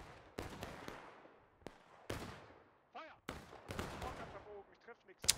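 Musket shots crack in the Civil War video game War of Rights on the Hagerstown map, several sharp near and far reports spread irregularly across the scene, with a brief whistling tone between them.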